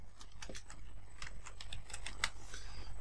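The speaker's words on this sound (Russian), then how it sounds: "Вот в правом верхнем углу введем ключевое слово OneCoin." Quiet, quick clicks of typing on a computer keyboard, a short run of irregular keystrokes entering a search term, with no voices.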